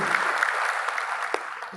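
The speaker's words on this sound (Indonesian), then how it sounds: "Yang percaya boleh berikan tepuk tangan yang mulia buat Tuhan Yesus." A church congregation at a Tiberias service claps steadily for about two seconds, a dense, even wash of applause that tapers slightly near the end.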